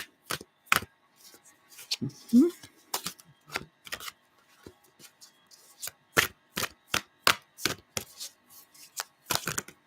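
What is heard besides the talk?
shuffling playing cards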